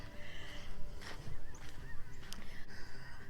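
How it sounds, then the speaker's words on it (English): Several geese flying overhead honk repeatedly from a distance, overlapping calls drifting over a soft outdoor background. "There's some geese flying overhead. I hear some geese."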